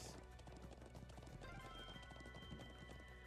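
A horse's hooves clip-clop steadily in Trails of Cold Steel 2 while the player rides across the highlands, the footfalls close and rhythmic over the game's ambient backdrop.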